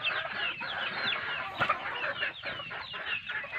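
Native chickens cluck and chatter close by, several birds overlapping in quick, uneven bursts with no pauses.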